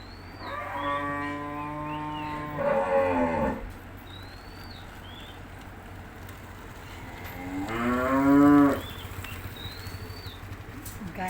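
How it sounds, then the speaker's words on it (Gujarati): A cow moos on seeing its owner, two long low calls several seconds apart over steady outdoor background noise, fairly close and clear. "ગાયના ધણીને જોઈને ગાય મોં પાડવા લાગી."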